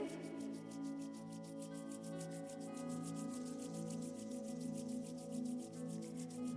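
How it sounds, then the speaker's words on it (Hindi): Palms rub briskly together during a yoga session, a quiet, rapid, even swishing repeated many times per second over a soft, sustained musical drone. "आपके हथेलियों को अच्छे से रब कर लीजिए।"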